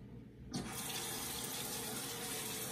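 Water gushes steadily from a tap after starting abruptly, a loud, continuous close-up splash filling a sink with no voices.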